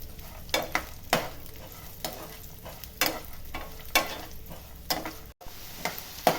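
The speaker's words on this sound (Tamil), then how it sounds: "எல்லாம் வதக்கிக்கணும் நெய்யிலேயே" Coconut pieces and dal sautéing in ghee for jackfruit payasam, a steady sizzle broken by repeated scraping stirs of a spoon against the pan, close and fairly loud, with no talking.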